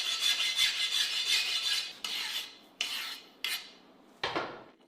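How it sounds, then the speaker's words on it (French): A metal file rasps along a hand-forged replica katana blade: one long scraping pass, then four shorter separate strokes, each close and clear. "Je vais tester à la lime une dernière fois."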